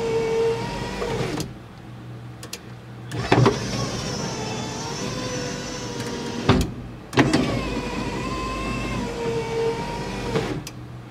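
Small electric motor in a Foxbody Mustang whining loudly and close in long runs, sounding slightly strained, with brief clunks as it stops and starts again.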